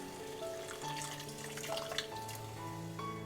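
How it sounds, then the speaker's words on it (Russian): Hot water poured into a pot of lentils, a steady splashing pour running continuously and close, with no talking. "Затем мы нальем сюда горячую воду."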